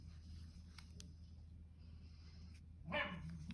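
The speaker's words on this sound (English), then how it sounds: "Oh, my dogs are playing." Pet dogs at play in a home give a single short bark near the end, faint and a little distant, over a low steady room hum.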